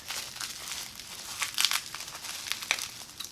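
Bubble wrap packaging crinkles and rustles close by as it is pulled and torn open, with sharper crackling bursts in the middle.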